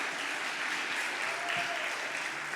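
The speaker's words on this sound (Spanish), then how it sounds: "Yo le daré un aplauso a Dios" A church congregation claps together in steady, even applause, sounding soft and somewhat distant throughout the short stretch.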